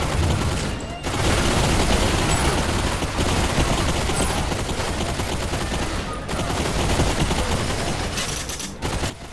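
Nonstop rapid gunfire and explosions from the VR shooter Bulletstorm VR on Quest 3, a dense, loud barrage with only a few brief gaps over nine seconds.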